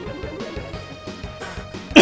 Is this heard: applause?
no